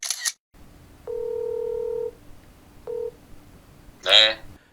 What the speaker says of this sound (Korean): 바로 전화 시작하겠습니다.